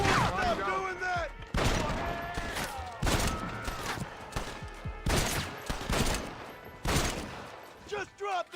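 Gunfire from a gun in the Red Dead Redemption video game, loud repeated bursts of shots at irregular intervals over a busy in-game soundscape, with a person's voice talking in between.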